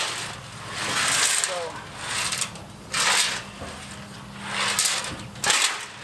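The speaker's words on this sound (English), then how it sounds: "Place a handful of drywall screws, about a pint of acetone or lacquer thinner into the tank, and shake them around vigorously for several." Drywall screws and lacquer thinner shaken inside a 1968 Chevy C10 gas tank, giving repeated rattling, sloshing surges in uneven waves, moderately loud and close, with a low steady hum underneath.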